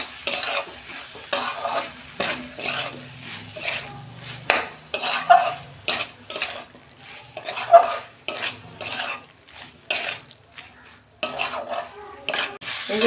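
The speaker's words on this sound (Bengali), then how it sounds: "দেখুন বন্ধুরা, আমি ভালো করে কষে নিচ্ছি মাংসের মতো।" Dried fish cooked down with chicken masala in a pan, a spatula scraping and knocking the metal in steady repeated strokes over a soft continuous sizzle, close and fairly loud, no voices.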